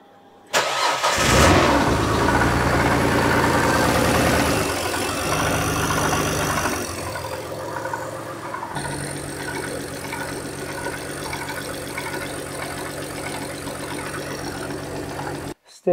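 A Ford Anglia engine cranks, fires and settles into a steady idle, with a faint repetitive clunk or tapping from inside, heard close and alone.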